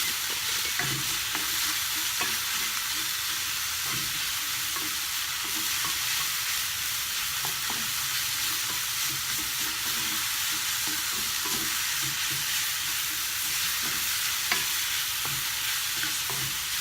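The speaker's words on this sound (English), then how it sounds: "The shiitake mushroom cooks really fast, so you don't have to stir fry for quite long." Shiitake mushrooms stir-fried with oyster sauce sizzle steadily in a hot pan, a constant bright hiss broken by soft scrapes and taps of the stirring utensil, close up with no talking.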